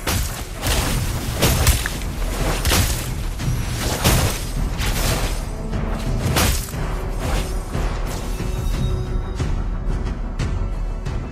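Booming explosions and crashes from a Mobile Legends battle, as a turret is destroyed amid dense, repeated impacts, whooshes and thuds layered over game music, loud throughout.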